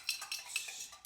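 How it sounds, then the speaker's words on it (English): A bar spoon stirs a Manhattan cocktail in a glass, giving a quiet, rhythmic series of light clinks and scrapes, about five distinct taps in quick succession, close and alone. "we're going to take our little stirry thing, and we're going to stir that up"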